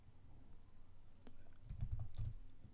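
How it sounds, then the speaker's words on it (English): Quiet typing on a computer keyboard, a few scattered clicks followed by a short burst of keystrokes, faint and close. "just go to your browser and type"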